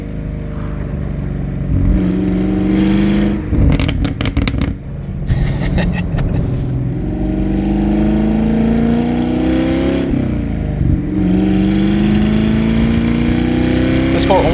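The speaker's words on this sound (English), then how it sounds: "And then it rev matches." A 2019 Chevrolet Camaro 1LE engine, heard from inside, revs up and down as it downshifts with automatic rev matching, loud sharp blips mixed with rising and falling drones, with a voice talking over parts of it.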